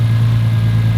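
A car engine idling while it warms up during drag racing prep, a steady low rumble close by and loud, with no change in pitch over a brief moment.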